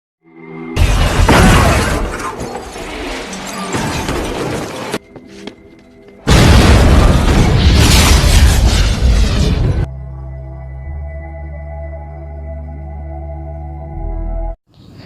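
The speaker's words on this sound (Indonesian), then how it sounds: "mobil yang dibawa oleh Han harus tertabrak dan tak lama mobilnya pun meledak." Two loud, sustained bursts of crashing and shattering as a car crashes and explodes in the film Tokyo Drift, followed by a low droning rumble.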